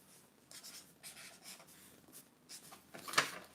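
Pen or pencil moving across paper for sketching, soft scratchy strokes in short irregular bursts ending with a sharper scrape, quiet and close with no voices.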